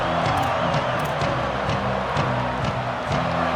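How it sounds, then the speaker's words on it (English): Crowd roar in a college football video game, Georgia Tech at Tennessee, a dense, steady wall of stadium cheering with scattered whoops rising through it, loud and continuous for the whole stretch. "This crowd ready to make its presence known."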